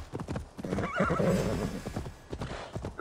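A horse gallops in Assassin's Creed Valhalla, hooves clip-clopping in a quick rhythm close by, with a loud snorting whinny in the middle.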